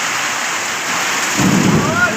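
Heavy rain pours steadily during a storm in Raghunathpur, Phulbaria, Mymensingh, a dense broadband wash that swells louder with a low rumbling roll of thunder near the end.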